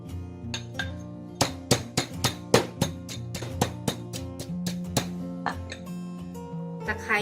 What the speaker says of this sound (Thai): เราจะตำผิวมะกรูดก่อนนะ เพื่อให้ผิวมะกรูดละเอียดค่ะ